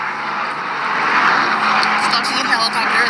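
A helicopter flies overhead, a steady, moderately loud engine roar with a constant, slightly hissing drone that holds for a few seconds, heard alone without talk.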